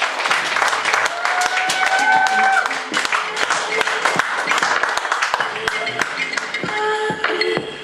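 An open mic poetry audience claps for a poet, dense overlapping hand claps filling the room loudly and steadily for several seconds.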